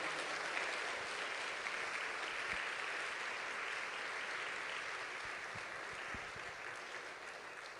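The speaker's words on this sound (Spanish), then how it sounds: "denle un aplauso al Señor para que se le quite un poquito lo serio" A church congregation claps together in a sustained, even round of applause, dense and fairly distant, with faint voices underneath.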